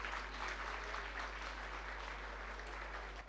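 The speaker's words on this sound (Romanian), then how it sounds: "Aplauze!" Audience applause at the fifth-anniversary celebration of Prima TV Iași and the launch of Tele Moldova: a steady, even wash of clapping throughout, fairly quiet and distant, over a low electrical hum.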